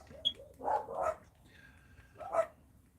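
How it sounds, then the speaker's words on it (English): Several dogs, including a dachshund, bark on a morning outdoors: a few sharp, moderately distant barks and yips in quick bursts with short gaps between them. "something's got those dogs going this morning"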